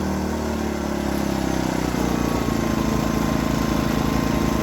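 A Predator 2000 inverter generator runs steadily nearby, a loud continuous small-engine drone whose pitch shifts slightly as the throttle control is changed, with no talk.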